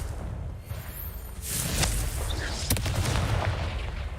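A Confringo fire-blast spell goes off in the Hogwarts Legacy video game, a loud booming burst with crackling follow-through over a dense rumbling battle backdrop.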